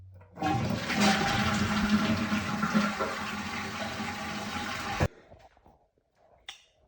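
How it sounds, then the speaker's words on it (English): A toilet flushes loudly with a rushing, gurgling surge of water for about five seconds, then cuts off, leaving faint trickling and a small clunk. "This is the sound of a toilet flushing."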